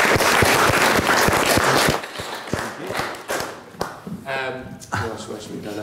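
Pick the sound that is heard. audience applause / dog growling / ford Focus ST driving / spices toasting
audience applause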